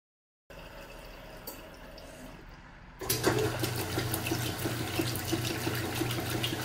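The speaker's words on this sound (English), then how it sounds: "now it's filling up for its rinse cycle" A vintage General Electric Spacemaker portable washer fills with water for its rinse cycle, a faint hum first, then a steady louder rush of running water with a low motor drone, no voices.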